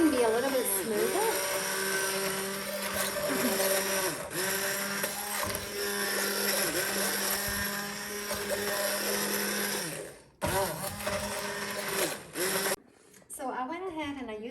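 A handheld immersion blender whirs steadily through a sauce in a home kitchen, its loud motor drone holding for about ten seconds, briefly cutting out, then resuming and wavering toward the end.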